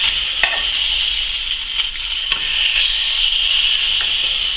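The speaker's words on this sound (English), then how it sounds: "Right, just going to turn my steak over now." A venison steak sizzles loudly in a hot pan with a steady bright hiss as it is turned, a few soft knocks of the utensil against the pan sounding over the continuous frying.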